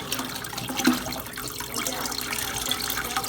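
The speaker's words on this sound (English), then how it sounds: "you'll hear a little bit of gurgle noise because of the water trying to bubble" Water gurgles and trickles as it drains from a twin tub washing machine, an uneven bubbling wash with small splashes, fairly close.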